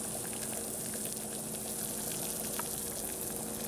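An egg frying in a pan with bacon on a homemade stainless steel pellet gasifier stove, a steady close hiss and sizzle with faint pops, continuous throughout.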